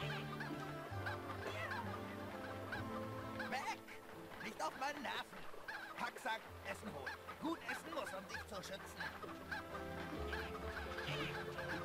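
Hens clucking in The Legend of Kay video game, a busy flock cackling and honking over steady game music, with a voice talking among the clucks.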